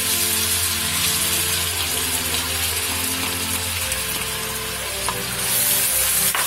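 Chopped onion sautéing in a frying pan alongside peppers, giving a loud, steady, close sizzle with a constant bubbling hiss that swells slightly near the end.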